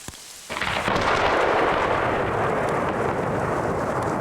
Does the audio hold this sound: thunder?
yes